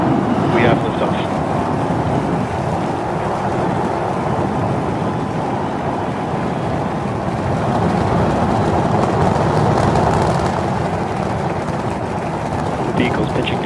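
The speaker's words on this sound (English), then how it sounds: "We have liftoff." A SpaceX rocket lifts off with a sustained, loud, deep roar, a steady broadband rumble like heavy thunder that holds without a break throughout.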